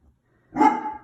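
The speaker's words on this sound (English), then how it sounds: "my dog is barking in the background" A dog gives a single loud bark that fades quickly, nearby and alone.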